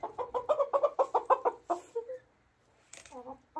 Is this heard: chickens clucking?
yes